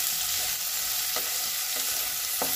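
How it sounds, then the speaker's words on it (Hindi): Vegetables for gobi manchurian stir-frying on high flame, a loud close hiss that never lets up, punctuated by a few sharp spatula knocks against the pan. "मैं यहाँ पे 1 मिनट तक इन सब्जियों को भूनूंगी बिल्कुल हाई फ्लेम पे"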